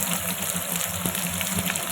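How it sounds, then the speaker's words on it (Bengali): Two medium-sized chopped onions frying in a pan for palak chicken curry give a steady, dense sizzle with a loud, continuous hiss and faint stirring bumps, and no one speaks over it. "এখন আমি পেঁয়াজটা ভালো করে ভাজিয়ে নেব।"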